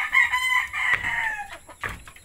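Backyard chickens, including a hen with many chicks, give loud, close clucks and crowing calls in overlapping, drawn-out bursts with brief pauses between them.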